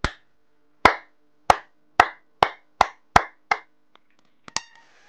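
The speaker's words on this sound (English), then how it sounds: "Let me do a clap." Sharp single hand claps aimed at a BC547 clap switch circuit on a breadboard: about nine crisp, close claps at roughly half-second intervals, then a short pause and a brief faint electronic beep.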